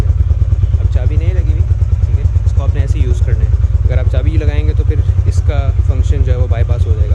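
A Yamaha YBZ motorcycle engine idles loudly and close by after a self start, giving a steady, rapid low thump that runs unbroken throughout while someone talks over it.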